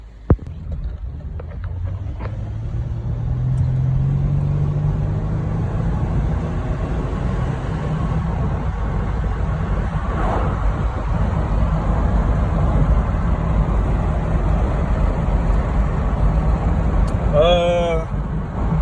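A 2012 GMC Acadia SLT AWD with a V6 pulls off and drives through city streets, its engine a steady low hum that rises as it moves off, heard from inside the car. A few clicks come in at the start and a brief chirping sound near the end.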